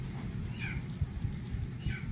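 A domestic cat meows a few short times at moderate distance over steady low background rumble and clatter, with no voices in between.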